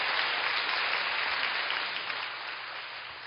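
Church congregation claps together in a steady, dense wash of applause that fades slightly toward the end, heard alone without voices.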